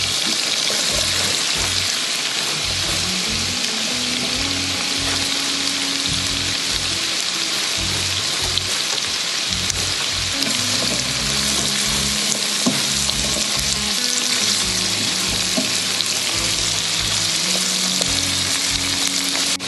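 Okra frying dry in oil in a pan alongside shrimp, a loud continuous sizzle with scraping stirs and a low steady hum from the stove underneath.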